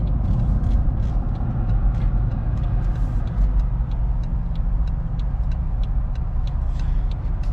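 Steady engine and road rumble from a 2018 BMW 440i convertible cruising along, continuous low drone with open-air wind noise and a faint ticking pattern above it, no speech.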